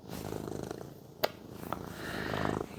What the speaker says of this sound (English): My cat is getting really excited.